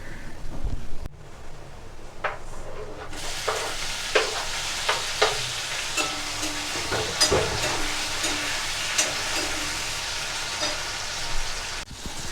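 Onions and tomatoes with salt and curry leaves sauté in a pan for a Tamil kuzhambu, a steady close sizzle broken by repeated scraping stirs of a spoon, after a brief quieter start.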